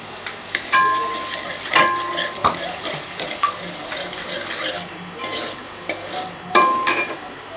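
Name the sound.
garlic frying in oil, stirred in a pan (taro curry)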